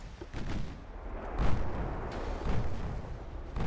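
Heavy warship main guns firing in the Ultimate Admiral naval game, 1920 German light cruisers and 17-inch guns in battle, giving deep rumbling booms with a strong blast midway and another shortly after over continuous low roar.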